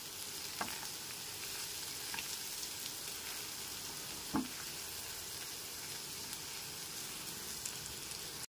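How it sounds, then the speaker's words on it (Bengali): Ground spices, including Kashmiri chilli powder, fry in a pan with a continuous soft sizzle, and a spoon stirs them with a few faint scrapes and taps over about eight seconds. "গুঁড়ো মশলাটা খুব ভালো মতো মিশিয়ে নিচ্ছি।"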